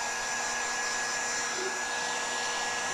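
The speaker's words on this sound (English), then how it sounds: "heat gun." A heat gun blows steadily on wet paint coating an upcycled apple juice bottle, a continuous loud airy roar with a whining tone, holding even throughout with no talk.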